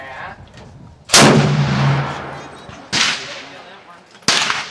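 A Browning 30-06 A-Bolt Stalker rifle fires three loud, sharp shots outdoors at a range, each a close, cracking blast with a rolling tail, spaced unevenly about two and one and a half seconds apart.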